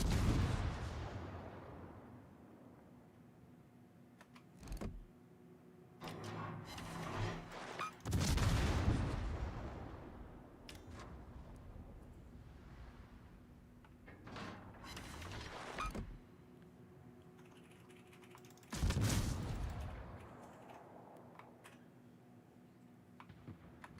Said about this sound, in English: He's firing HE at me now.